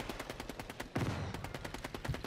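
Rapid automatic gunfire in Call of Duty Warzone on Rebirth Island, a steady stream of sharp close shots with a heavier burst partway through, loud and without talk.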